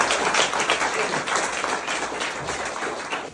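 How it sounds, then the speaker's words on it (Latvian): Audience applause at an exhibition opening at an art school in Gulbene, a dense, steady round of clapping from a full room that carries on throughout without a break. "aplausu Annai vēlreiz kārtīgi aplausi"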